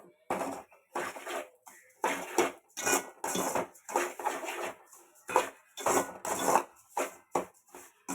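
A spoon scrapes and stirs rava laddu mixture with freshly grated coconut in a pan, giving repeated rhythmic scraping strokes with short pauses, close and moderately loud.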